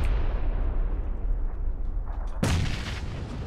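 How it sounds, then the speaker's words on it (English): A grenade explodes in PUBG, a deep rumbling blast that fills the low range, followed by a sharp second boom rolling out near the end, with no talk over it. "This one guy just grenaded. He's still trying to grenade."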